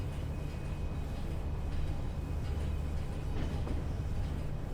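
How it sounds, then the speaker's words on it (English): A railway train rolls past in the Train Sim World 6 simulator on a London to Crewe railtour route, a steady low rumble and drone that holds throughout at an even, moderate level with no talk. "I wonder if that's the train that was supposed to be at our platform."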